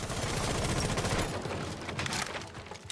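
Gunfire in Rainbow Six Siege as shots punch through barricades, a dense, continuous stream of rapid reports with debris crackle, loud and close, thinning slightly toward the end.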